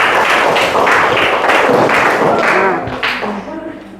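A classroom of seventh-grade students claps for a few seconds after a group presentation, a loud burst of hand clapping that fades toward the end, with a brief spoken word over it.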